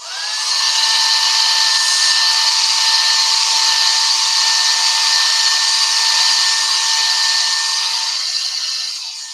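A craft heat dryer blows steadily on a paper craft transfer, a loud continuous whine with a high tone that holds unbroken for about nine seconds, close by and alone.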